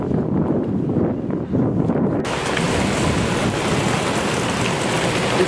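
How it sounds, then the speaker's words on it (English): Rain patters steadily during a walk in Arashiyama, Japan, with a broad hiss and wind rumble on the microphone; the sound brightens and thickens partway through as the shower picks up. "It's rain and then not rain and rain at the same time."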